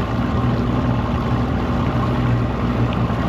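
A Triton aluminum boat's outboard motor runs steadily on Percy Priest Lake, giving a loud, continuous drone with wind and water noise. The tone is constant throughout, with no talking.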